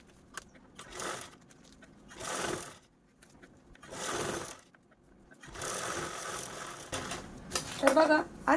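A sewing machine runs several short top-stitching passes along a zip on a reused blouse piece, each a few seconds of steady whirring broken by pauses, with a faint clink near the end.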